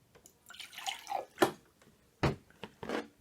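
Excess coolant concentrate tipped out of a measuring jug comes through as a few short splashy pours and drips, separated by brief pauses, close and fairly quiet.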